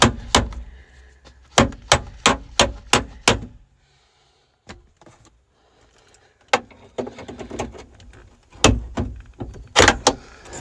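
Sharp repeated metal knocks from hammering a hinge pin out of an S10 Blazer door, arriving in quick bursts of four to six strikes with short pauses between, loud and close.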